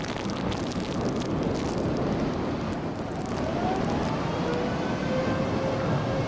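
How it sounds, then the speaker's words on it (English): A United Launch Alliance Atlas V rocket lifts off carrying a ViaSat-3 satellite, its broad crackling roar filling the air continuously and loudly. "liftoff of the United Launch Alliance Atlas V rocket carrying ViaSat-3 Flight 2"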